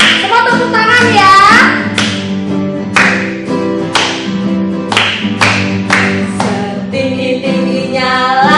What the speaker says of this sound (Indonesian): Semua tepuk tangan ya